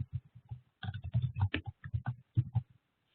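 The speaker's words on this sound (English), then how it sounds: "I know everyone can hear me typing" Fast, heavy typing on a computer keyboard in bursts of dense clacking keystrokes with short pauses, close and dry in a quiet room.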